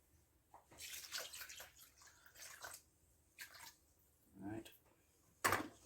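Water is poured into a cup while measuring for a home-cooked meal, heard as several short splashing bursts with quiet gaps between them.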